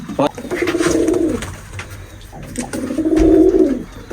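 Pigeons coo at a pigeon farm where the birds are kept inside mosquito netting: two clear, close, rolling coo phrases, each lasting about a second, separated by a short pause.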